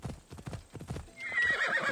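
Steady clip-clopping hooves thud in a rhythmic gait, then a horse lets out a loud, high whinny that carries over the last stretch.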